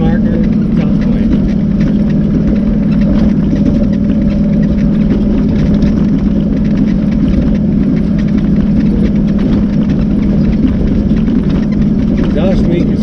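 Motorcycle engine running steadily on a mountain adventure ride after an exhaust leak repair, a loud, constant mid-pitched drone with a low rumble underneath and wind buffeting over it.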